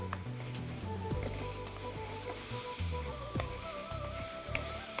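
A pan of fried mango rice sizzles steadily as jaggery is added, with intermittent scrapes and clinks of a spoon stirring against the pan, close and without talk.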